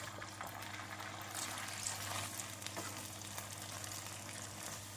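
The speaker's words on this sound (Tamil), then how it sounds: "அனைத்து சேப்பங்கிழங்கையும் பொரித்து எடுத்து விடலாம்" Taro root deep-frying in oil gives off a constant dense sizzle and bubbling hiss, steady and close but fairly soft, with no talking over it.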